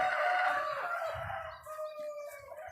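Chickens on a chicken farm cluck and crow in a continuous dense chorus, a rooster's call standing out above the flock, fairly close and steady throughout.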